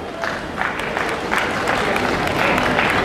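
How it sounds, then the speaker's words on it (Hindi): Audience applause rings out at the closing prize ceremony of the 2019 International Shivratri festival, a dense, steady crowd clapping that swells slightly toward the end, fairly loud and continuous. "आपकी तालियां आती रहे"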